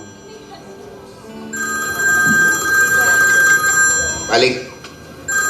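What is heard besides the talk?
telephone ringing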